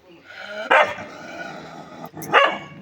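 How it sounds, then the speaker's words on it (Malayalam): A dog gives two sharp barks about two seconds apart, close by, with a low hiss of background noise in between. "ഇവിടെ ഒരു പട്ടിയുണ്ട്"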